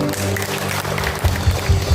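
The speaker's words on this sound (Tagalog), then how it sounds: "Ang lahat ng may kamay pumalakpak." A congregation at a healing crusade in Diadi, Nueva Vizcaya claps. A dense background gives way in the second half to a run of regular rhythmic claps in time.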